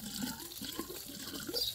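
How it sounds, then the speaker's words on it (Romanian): Water pours from a container into a plastic tube set beside a thuja plant, a steady close splashing trickle that runs unbroken throughout. "eu îi pun apă așa în tub"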